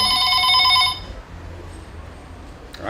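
A telephone ringing loudly with a steady electronic tone for about a second, then cutting off into quiet room noise.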